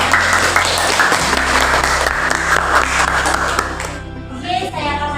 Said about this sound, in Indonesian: berikan tepuk tangan untuk Wah